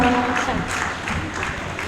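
Audience applause at a Hindi-language stage event welcoming a female mission singer, a steady broadband clapping wash lasting about two seconds at moderate level, with no talk over it.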